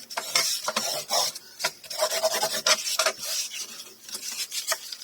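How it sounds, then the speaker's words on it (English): Folded paper corner pockets made from 12 by 12 paper are burnished down in quick, close rubbing strokes, each a short dry rasp, repeated in an uneven rhythm with brief pauses between them. "just burnish everything down once more"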